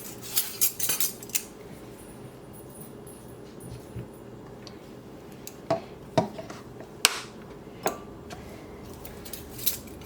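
Ginger is minced with a knife on a board, heard as scattered sharp clicks and taps, some quick bursts and some isolated strikes, over a quiet background.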